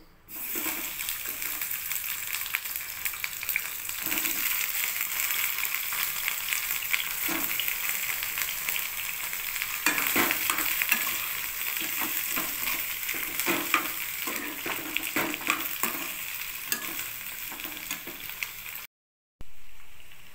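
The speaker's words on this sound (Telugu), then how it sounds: "ఆయిల్ వేసుకున్న తర్వాత వంకాయలు వేసుకుందామండి." Small cut pieces of white brinjal fry in hot oil in a pan, giving a steady, close sizzle with occasional stirring scrapes and clinks over about twenty seconds, with no talking.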